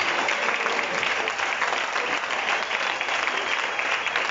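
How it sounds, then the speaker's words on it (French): A church congregation claps loudly and continuously in acclaim during a worship service, a dense, even wash of applause throughout. "Acclame fortement le Seigneur."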